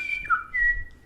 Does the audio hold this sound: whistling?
yes